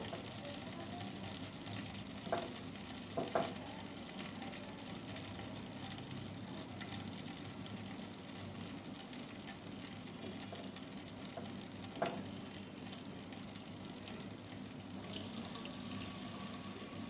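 Batter-coated fish fillets crackle and sizzle continuously in oil over low heat at a gentle, even level, with a few faint clicks and no talking.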